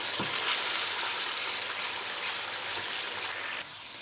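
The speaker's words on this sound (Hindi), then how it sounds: "अच्छी तरह इसको भून लेना है।" Chicken meat frying in a karahi for ginger chicken, a dense, steady sizzle with faint occasional stirring, close and even, easing off slightly near the end.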